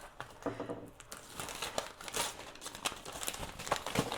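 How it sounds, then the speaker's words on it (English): Steady crinkling and tearing as paper backing is peeled from Heat and Bond fusible fabric during appliqué embroidery work, close and continuous with small crackly bursts throughout. "I am going to go ahead and peel this off."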